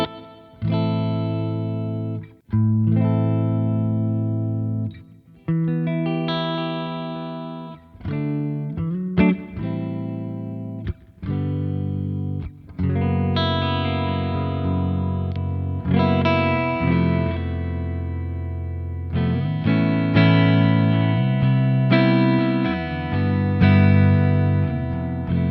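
Electric guitar played through a Revv Generator 100R MKIII amplifier with reverb engaged, sustained distorted chords and riffs ringing out with short pauses, loud and close, no talking.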